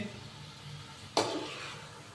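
Potatoes and green chickpeas in a cooking pot give a sudden loud sizzle as they are stirred, after a quiet stretch, the frying hiss holding steady and close.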